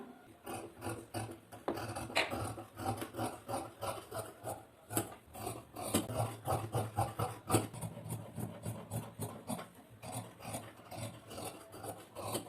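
Scissors cutting lining blouse fabric along marked lines, a steady run of close rasping snips repeating in an even rhythm for about twelve seconds, quiet and alone.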